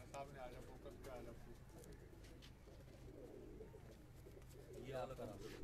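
Rooftop pigeons cooing in soft, low repeated calls under someone talking, with faint background noise throughout.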